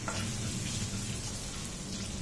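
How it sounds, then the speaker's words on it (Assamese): Grated ginger frying in a pan, a steady even sizzle with a soft crackle, close and continuous, with no voices. "আদাখিনি ভালদৰে ভাজি লম"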